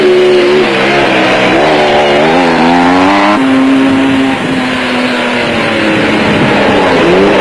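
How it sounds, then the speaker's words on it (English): Off-road racing cars and motorcycles at the 1992 Caledon off-road race in South Africa passing by, loud engines with pitch sweeping up and down as each vehicle goes past, one after another. "leaders Bix Caledon and Kenny Scholthammer the first of a string of cars and motorcycles that were to disturb his morning."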